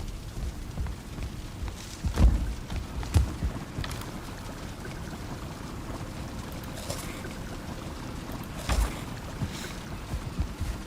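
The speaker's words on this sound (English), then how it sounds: "Started sailing around Starter Island." Boat sailing in Valheim, with a soft continuous wash of water against the hull and occasional splashes and creaks, fairly quiet with no voices.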